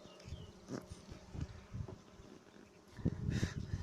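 Honeybees at an apiary hive with brood frames open, a low buzzing hum with swelling bursts of wingbeats close by, rising and falling over a few seconds.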